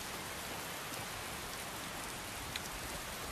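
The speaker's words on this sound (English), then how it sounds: "I can't see anything. It's raining." Steady rain falls in The Elder Scrolls V: Skyrim, a continuous even hiss of drops at moderate level with no other sounds over it.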